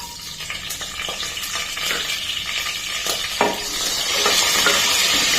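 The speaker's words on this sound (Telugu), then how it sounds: "దీనిలో మనము గ్రీన్ చిల్లీ," Green chillies and curry leaves drop into hot oil with spluttered seasoning seeds, a loud close crackling sizzle that swells toward the end, with scattered sharp pops and utensil scrapes, no voices.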